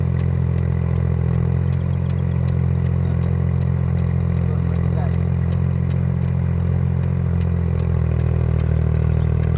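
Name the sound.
tractor engine tilling the soil on a lemongrass farm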